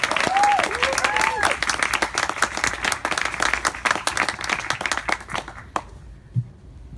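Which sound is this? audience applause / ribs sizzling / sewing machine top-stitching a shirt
audience applause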